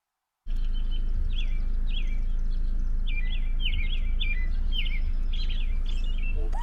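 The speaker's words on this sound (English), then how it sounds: "The sound of birds chirping at the 4th Street Preserve." Small birds chirp in quick bright bursts at the 4th Street Preserve in Lewes, repeated calls scattered over a steady low outdoor rumble, with no voices.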